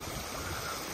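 Water rushes through a culvert pipe and spills into a ditch, making a continuous close-up wash and gurgle that stays even and fairly loud throughout.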